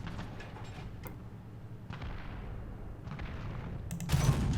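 In the War Thunder video game, the ZiS-30 tank destroyer's cannon fires a single sharp shot near the end, preceded by a low idling engine rumble and faint mechanical clunks.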